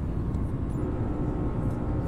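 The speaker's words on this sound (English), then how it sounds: "Nice engine sounds there." Airbus A320 airliner engines in a flight simulator, a steady loud broadband roar and hum that holds constant without a break, with no talk over it.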